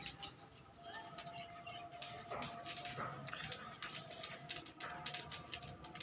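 Gulgasht pigeons coo softly in a loft amid scattered flutters, scuffles and faint background chatter, all at low volume.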